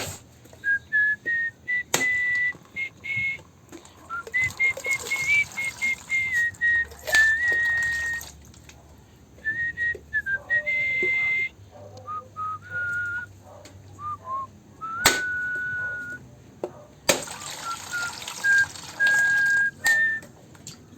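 Someone whistles a tune in short melodic phrases with pauses between them, set against quiet background sounds and occasional clicks.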